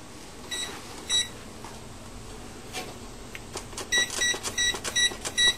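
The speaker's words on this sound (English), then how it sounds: "so I'm going to go on ahead and start the timer." A kitchen oven timer is set with a few sharp electronic beeps, then a rapid run of button-press beeps near the end, close and clear over quiet room tone.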